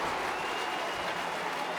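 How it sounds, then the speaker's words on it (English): A crowd at a Super League rugby league match between Hull KR and Warrington Wolves gives a steady, dense roar and applause, moderately loud and continuous without a break. "There's the roar of the crowd."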